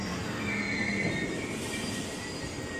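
A twelve-car KRL commuter train rumbles at Cikarang station late at night, wheels squealing with a sustained high whine over a loud, continuous rolling roar, no talk.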